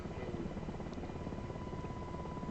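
A helicopter in the DCS flight simulator drones with a steady, dense rotor and engine roar that holds constant throughout, loud and unbroken, with no voices.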